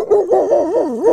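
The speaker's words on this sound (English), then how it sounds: "you're scaring a buzzard off with all that barking" A dog gives a short, continuous howling bark outdoors, its voice rising and falling in wavering pitch for about a second, loud and close.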